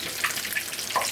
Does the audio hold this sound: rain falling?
no